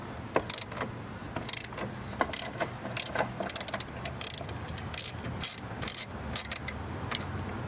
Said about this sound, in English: Now you need to use 12mm socket to remove one bolt